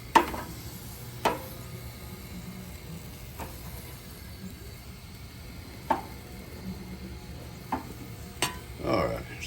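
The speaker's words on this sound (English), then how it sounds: "So I'm going to go ahead and grill it. Just regular pork sausage." Regular pork sausage sizzles on a grill with a steady, soft frying hiss, broken by a few sharp clicks and taps spaced several seconds apart.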